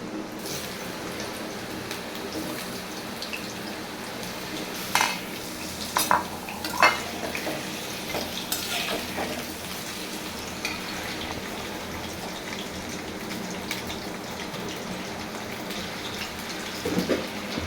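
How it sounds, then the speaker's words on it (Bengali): Potatoes frying in oil in a pan for a home-style chicken curry, a steady soft sizzle with occasional sharper crackles and stirring clatters, no talking. "তরকারির জন্য আগে আমি আলুগুলো ভেজে নিব আলুগুলো দিয়ে দিলাম"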